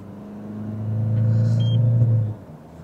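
A car overtakes another vehicle on a two-way highway, a close engine rumble and road roar that swells and holds as it pulls past, then eases off, with no voices.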